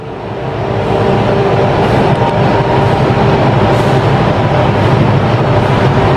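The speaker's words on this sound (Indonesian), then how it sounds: "Kita lihat Parsel berangkat enak nih kayaknya" A Parsel parcel train departs a railway station in Indonesia, a loud, steady rumbling roar that builds over the first second and then holds continuously close by.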